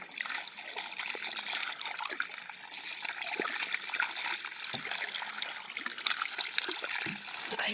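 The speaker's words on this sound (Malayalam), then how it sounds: "നമ്മുടെ വാൾവിൻ്റെ അവിടെ നിന്ന് വെള്ളം വന്ന് തുടങ്ങി" Water gushing from a broken pipe valve, a continuous hissing splashing rush with small gurgles and splatters, steady and fairly close.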